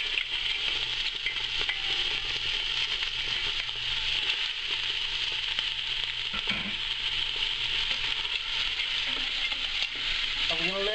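Crab shells sizzle in a hot pan at the start of a crab bisque, a steady close frying hiss with occasional stirring scrapes and no talk.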